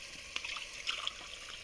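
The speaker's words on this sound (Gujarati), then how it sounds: "આમાં બે ગ્લાસ આપણે પાણી નાખી દઈએ" Water is poured into a pot of green peanut curry, a faint brief splashing trickle heard alone and close.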